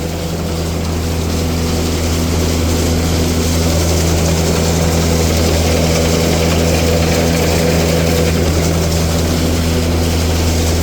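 Farm tractor idling low at about 1,200–1,300 RPM while driving a silage wagon's unloader during corn silage work; a loud, steady, droning engine hum with constant mechanical whir throughout, no voices.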